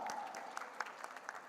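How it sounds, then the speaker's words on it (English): Audience at a startup conclave in Mumbai applauds a prize winner, a brief burst of dense clapping from a crowd, moderately loud and continuous. "A round of applause for Vaibhav"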